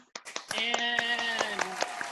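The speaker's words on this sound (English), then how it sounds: "Let's give a round of applause." Scattered claps from a small audience at a variety show, a handful of sharp hand slaps spaced through the moment while a sustained vocal cheer rings over them.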